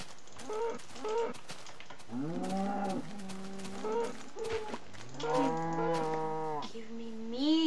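Several cows in a Minecraft world low repeatedly, long drawn-out moos overlapping one another at close range, with no talk over them.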